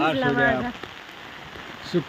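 Steady rain falls outdoors, a soft continuous hiss with scattered drops. A voice speaks briefly at the start, and then the rain carries on alone at a moderate level.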